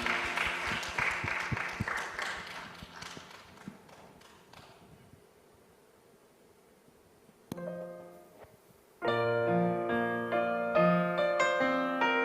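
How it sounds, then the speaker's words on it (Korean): A church congregation at worship applauds for several seconds, dense clapping that thins and fades to near silence, followed by a sharp hit and then loud sustained keyboard chords starting the next song. "우리 주님께 영광의 박수 올려드립니다"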